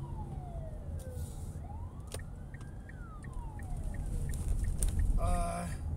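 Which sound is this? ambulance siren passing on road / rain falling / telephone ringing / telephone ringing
ambulance siren passing on road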